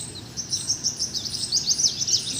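Small birds chirping near scattered millet grain, a rapid run of high twittering calls close by, heard alone over a low background hum.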